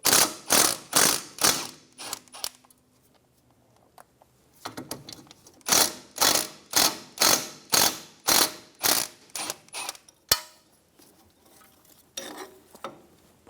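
Ratchet wrench with a 36mm socket loosening the axle nut on a 2003-2007 Infiniti G35, close and loud: rapid bursts of ratcheting clicks in repeated strokes with short pauses between them, no talking.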